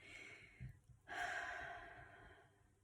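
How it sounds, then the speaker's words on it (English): A person takes a deep breath, a brief exhale followed by a longer, audible breathy inhale, quiet and close. "take a moment, take a deep breath"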